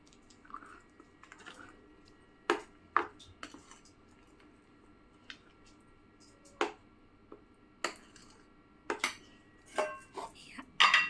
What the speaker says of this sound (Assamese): এতিয়া মই ইয়াতে দিছোঁ 3 চামুচ ৰিফাইন অইল, আৰু এই অইলখিনি ভালদৰে মিহলাই লৈছোঁ।